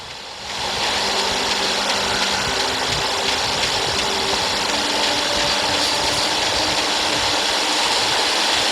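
A river rushes below in the Alan Wake video game, a dense, steady roar of flowing water that swells in within the first second and holds at full strength throughout, with no voices.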